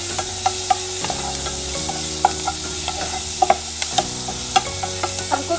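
Onion and vegetables sauté in a pan for masala Maggi, a loud continuous sizzle close by, punctuated by frequent sharp clinks and scrapes of a spatula stirring.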